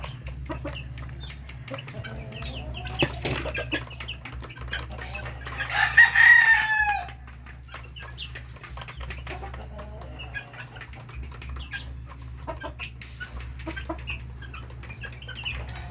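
Young chicks and hens on a farm peep and cluck in a steady close chatter, with a louder burst of calls partway through over a low background hum.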